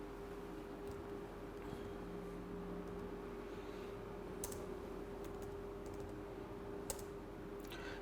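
Computer keys clatter in scattered, fairly quiet clicks during a programming lecture, with a steady hum underneath and no one speaking.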